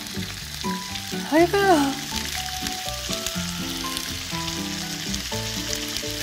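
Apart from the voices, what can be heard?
thin bulgogi beef slices sizzling while frying in pan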